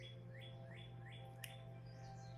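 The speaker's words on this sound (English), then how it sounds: "beautiful birds singing outside and the roosters crowing" Birds chirp outdoors in a repeating series of rising tweets, faint and somewhat distant over a steady low hum; no roosters stand out.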